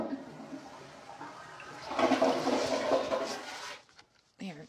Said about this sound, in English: Can I pee?